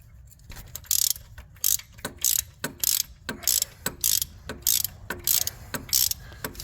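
A ratchet socket wrench clicks in repeated short bursts on the thermostat housing of a 2011 GMC Yukon Denali, each quick buzzing ratchet stroke followed by a brief pause, steady rhythm, close up.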